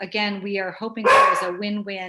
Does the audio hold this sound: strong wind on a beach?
no